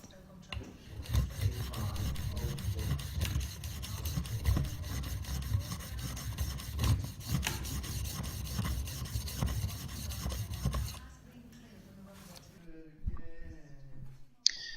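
A chisel is rubbed back and forth across a whetstone in steady, gritty strokes using the stone's full width, continuing for about eleven seconds before stopping, followed by quieter handling sounds.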